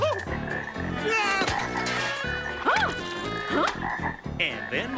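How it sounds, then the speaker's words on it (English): Cartoon frogs croak in a busy chorus of repeated deep and warbling calls, loud and close, with frequent overlapping croaks throughout. "We have some frogs here for you. Lots of frogs."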